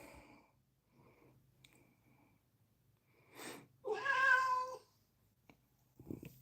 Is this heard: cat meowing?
yes